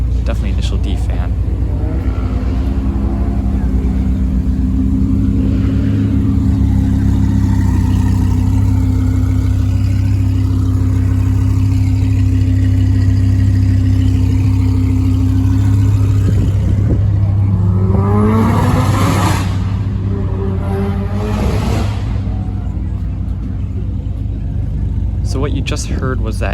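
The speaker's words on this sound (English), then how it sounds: "So what you just heard was that Evo." Modified Mitsubishi Evo engine at a cars-and-coffee meet, a loud steady low rumble with sharp revving bursts near the end, close to the listener, with voices in the background.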